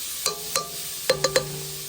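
Garlic dropped into melted butter in a pan for Alfredo pasta, a soft steady sizzle under a few sharp metallic taps and clinks of a utensil against the pan, with no talk.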